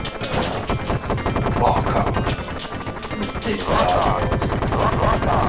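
Rapid, dense gunfire and explosive blasts from a helicopter firing rockets in the Sega Mega Drive game Gunship, a loud continuous rattling barrage with heavier bursts, while someone briefly speaks over it.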